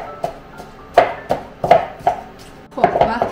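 Soft cooked eggplant being pounded by hand for Kerman-style eggplant halim, about eight dull, uneven thuds at an irregular rhythm, close and moderately loud, with faint clinks of a utensil against the pot.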